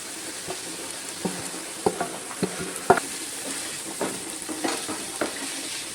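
Sliced onions fry with turmeric, salt, ginger and garlic in a pan with a little oil, a steady close sizzle broken by scattered scrapes and clicks of stirring.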